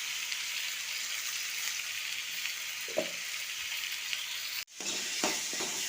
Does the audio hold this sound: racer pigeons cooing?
no